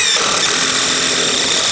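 Power driver sinking 100mm screws up into flat-roof joists of a timber garden room workshop, a loud continuous whirring drone running steadily through the whole moment, close by with no talk.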